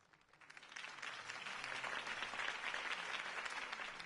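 A steady burst of crowd applause from the video game Telltale's Batman swells up and holds, dense clapping from many people at a moderate distance, with no talking.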